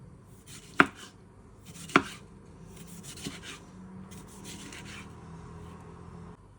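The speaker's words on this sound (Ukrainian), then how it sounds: "Помідорчики нам треба нарізати кружечками." A knife slices tomatoes into rounds on a board, giving two sharp, close chops followed by softer cuts and light scraping, with no talking.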